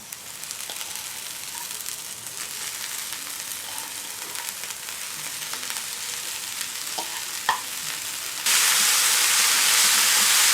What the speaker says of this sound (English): Mix spinach with all the ingredients.